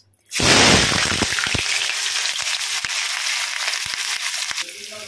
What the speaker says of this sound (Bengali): তো এর মধ্যে আমি এখন দিয়ে দিচ্ছি কুচনো পেঁয়াজ